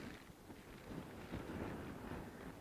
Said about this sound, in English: Got a little bit of windage going on there